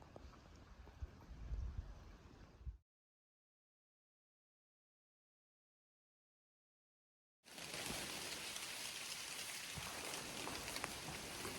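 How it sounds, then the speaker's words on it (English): Steady rain falls outdoors on a cold, windy day beside a small pond along a Vermont stretch of the Appalachian Trail, a dense hiss that cuts out to silence for several seconds midway before resuming just as loud. "It's raining."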